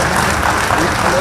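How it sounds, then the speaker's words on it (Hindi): A brief, dense wash of crowd applause welcoming Prime Minister Modi at Deoghar Airport, loud and continuous with no distinct single claps. "प्रधानमंत्री जी और आप सबकी तरफ से तालियों के साथ अभिनंदन और स्वागत जरूर"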